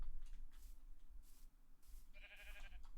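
A sheep in Minecraft 1.21 gives a faint, short bleat near the end, over a quiet, low background hum.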